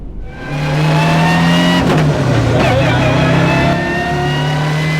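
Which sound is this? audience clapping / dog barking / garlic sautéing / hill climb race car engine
hill climb race car engine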